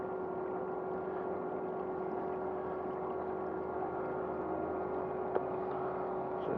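An electric motor on a kayak hums steadily with a constant tonal whine over a low water wash, moderately loud and unbroken throughout.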